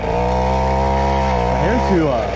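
A mini bike engine idles with a steady buzzing drone, running a bit rough and lean; the pitch wavers briefly near the end.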